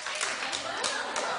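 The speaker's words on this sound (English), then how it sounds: "Clap if you don't mind." Dense, steady clapping from a television talk-show studio audience, a continuous wash of hands with no pauses over its brief length.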